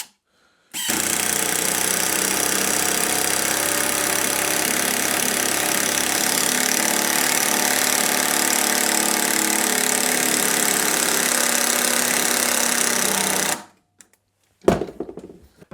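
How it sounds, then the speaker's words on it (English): An impact driver runs a 3-inch 10 gauge screw into a pine block, a loud sustained rattling hammer lasting about thirteen seconds, then cutting off to near silence with a short clatter after. "Big test, 3-inch 10 gauge screw, straight into this block of whatever pine or I don't know what this is."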